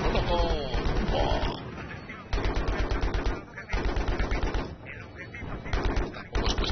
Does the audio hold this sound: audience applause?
no